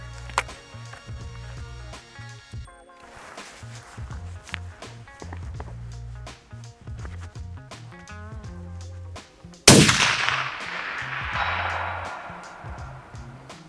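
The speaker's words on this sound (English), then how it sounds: "and a single shot." A rifle fires a single shot at a distant target at long range. One sharp, loud crack cuts in near the end and rolls off in a long fading echo over steady background music.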